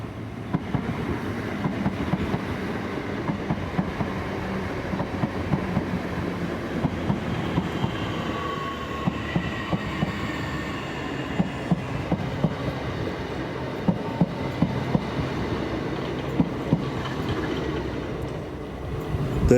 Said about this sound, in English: Let's just wait for the train to pass.